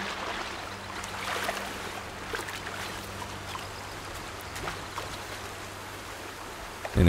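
Steady running water from a river in the video game Horizon Zero Dawn, a soft continuous trickling wash with a low hum underneath, with no voices and a brief louder bump at the very end.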